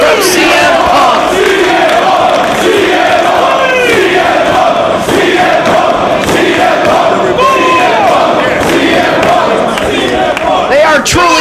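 Wrestling fans at a 2005 Death Before Dishonor III match between Austin Aries and CM Punk roar continuously, a loud dense crowd with shouts and chants rising and falling throughout.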